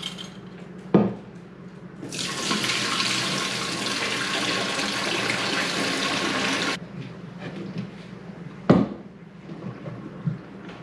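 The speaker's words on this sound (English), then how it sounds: "Just gonna drain it into the sink." Water from a jar of cucumbers pours steadily into a kitchen sink in a rushing stream lasting several seconds, with a clink of glass or metal just before and after.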